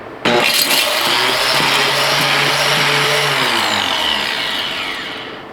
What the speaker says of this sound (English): Mighty Mill's loud.